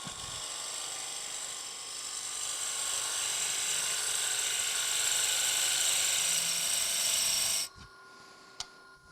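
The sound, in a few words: wood lathe turning with a round nose scraper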